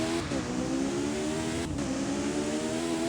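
A track car in the Driving Empire racing game holds a steady, loud engine drone at speed, with brief dips as it shifts or lifts and then pulls on again, continuous throughout with no talk.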